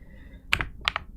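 A few crisp computer keyboard arrow-key presses, two quick pairs of clicks about a third of a second apart, close and fairly quiet against a faint steady hum.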